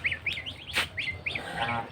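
Domestic ducks just let out of their enclosure call in repeated honking quacks, several bursts close by over a steady outdoor background, with no talking.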